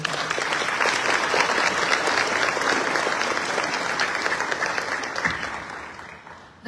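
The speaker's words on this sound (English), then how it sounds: "Let's give that group one more round of applause" Sustained audience applause at a family scholarship award ceremony, steady dense clapping from a large crowd that holds for the whole stretch and thins slightly near the end.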